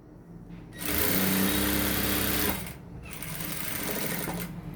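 A sewing machine stitches the back of a blouse with a fast, even, close whirring run of about two seconds, a brief pause, then a second, somewhat quieter run.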